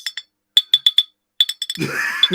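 Drinking glasses clink together in a series of sharp, bright taps, two quick ones, then a steady run of four and another cluster, close and loud, before a voice starts talking over the last clinks.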